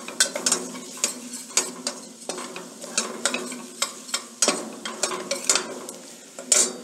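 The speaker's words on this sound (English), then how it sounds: "Keep stirring so that the flour does not stick to the bottom" Flour roux with chopped garlic being stirred in a pan for a brown roux in tomato sauce, with repeated scraping spoon strokes over a steady sizzle and no talk.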